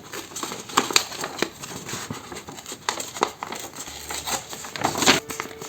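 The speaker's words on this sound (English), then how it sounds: "And then I'm going to tear this." Paper torn by hand while making a mini junk journal, heard as a series of short, close, dry rips and crinkles scattered irregularly with small pauses between them.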